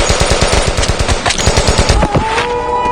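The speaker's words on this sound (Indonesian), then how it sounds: "si ketua dan pasukan pun langsung melepaskan tembakan dan inilah yang terjadi" Rapid bursts of machine gun fire, loud and close, a steady rattling stream of shots with a couple of heavier blasts toward the end.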